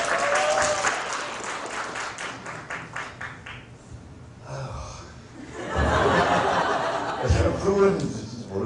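Audience clapping at a Korean literary cafe stage performance, an opening burst of rapid clapping that fades, a quiet gap, then renewed applause mixed with chuckles and laughter, with voices talking over it.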